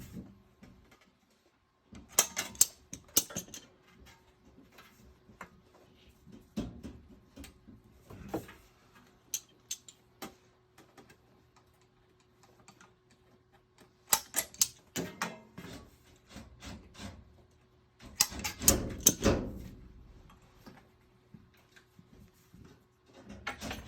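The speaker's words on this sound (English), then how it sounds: "Oh, we gotta cut our top corners out." Sheet metal being snipped at the top corners of a furnace plenum: faint, intermittent clusters of sharp cutting and crinkling metal sounds separated by quiet gaps, close by.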